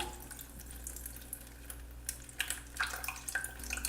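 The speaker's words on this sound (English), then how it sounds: "slowly let the water into the bowl" Water draining from a toilet tank into a held bucket during a fill valve replacement, a faint trickle with scattered drips and splashes that grow more frequent toward the end.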